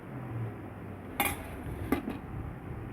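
Rice being served onto a plate brings a couple of quick clinks and scrapes of a utensil against the dish over a quiet, close background, with no speech.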